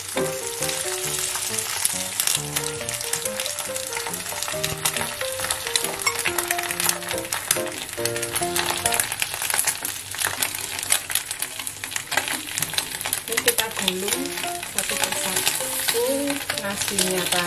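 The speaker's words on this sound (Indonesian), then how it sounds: "memanaskan teflon sebentar dalam keadaan api sedang, lalu kita letakkan nori di tengah, dan kita berikan telur yang sudah kita blender tadi." A blended egg sizzles on a sheet of nori in a non-stick pan over medium heat, giving a steady, loud, continuous crackle with scattered pops throughout and no voices.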